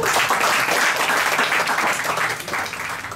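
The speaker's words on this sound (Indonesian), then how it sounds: "tepuk tangan paling meriah untuk David." A crowd at a stage show gives lively applause for a performer, a thick continuous burst of clapping that stays loud and fades slightly at the end.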